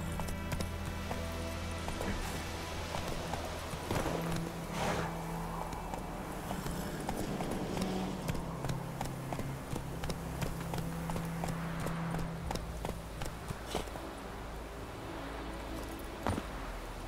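Roach, the horse in The Witcher 3, gallops with a steady rolling clip-clop of hooves inside a dense, loud game soundscape that continues throughout.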